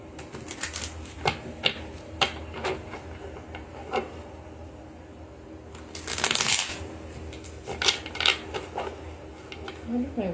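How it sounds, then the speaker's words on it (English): Tarot cards sliding and riffling as a deck is shuffled by hand, a series of crisp flicks and a longer rustling burst, with a faint voice and bird coos in the background. "The cards are sliding everywhere."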